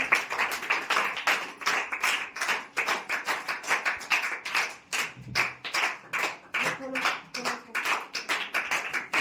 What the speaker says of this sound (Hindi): तालियां बजाते रहिए प्लीज